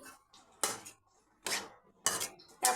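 A metal lid set onto a cooking pot of pointed gourd and potatoes, several distinct clanks and clatters in a quiet kitchen, fairly close, without speech.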